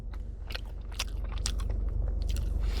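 Someone bites and chews fried chicken up close, with soft crunches and moist chewing sounds repeating irregularly over a low steady background hum, with no talking.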